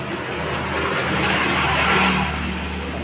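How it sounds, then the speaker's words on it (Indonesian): Cooling fan of a Dell Inspiron 3000 15-inch laptop, just reassembled after a keyboard replacement, whirs in a steady, even drone with a low hum underneath, swelling slightly midway through. "Ini bunyi dari kipasnya ya."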